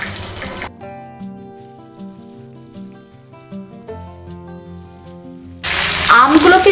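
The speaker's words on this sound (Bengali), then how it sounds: "এখন কেটে রাখা আমের টুকরোগুলো তেলের মধ্যে দিয়ে দেবো।" Raw mango pieces drop into hot oil for a sweet-sour pickle and burst into a loud, bright sizzle near the end, after a stretch of instrumental music.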